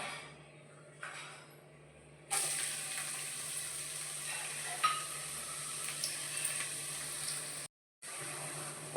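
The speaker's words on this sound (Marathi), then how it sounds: "कढईमध्ये तेल टाकून घेतलं आहे कांदा टाकून घ्यायचा" Oil sizzles loudly in a wok after onion is added, a continuous crackling fry with a few clinks and a short silent gap near the end.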